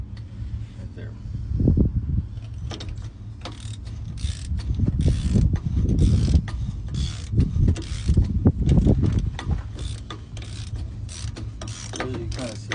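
A big rig truck wheel hub spun by hand during wheel seal work, producing a close, continuous ratcheting and grinding whir that swells and fades across several turns, with someone talking over it at times.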